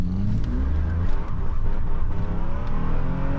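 A Mercedes S600 V12 engine pulls hard under acceleration from inside the cabin, a steady loud low-pitched roar with rising drive that holds throughout, without talk.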